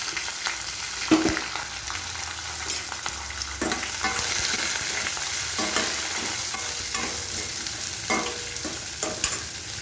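Onions and green chillies frying in a pan for poha, a steady close sizzle broken by repeated scrapes and knocks of a spatula stirring them; no one speaks.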